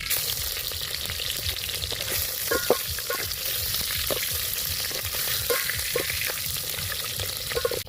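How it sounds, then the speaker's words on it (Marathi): Onions, tomatoes and chillies fry in a pan outdoors while being stirred, giving a steady close sizzle with faint scraping and clinking throughout, and no talk. "ते कांदे टोमॅटो ते मिरच्या वगैरे ते सगळे टाकून घेतलेले आहेत आणि आता ते सगळं हालवून घेतलेले आहे"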